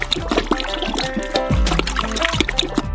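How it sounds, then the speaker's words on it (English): Gelatin poured into fruit juice in a large saucepan for a giant homemade Nutella treat, a close, steady liquid pour and trickle with splashy bursts over a continuous background hum. "Five kilograms of gelatin should be poured into each of the juices."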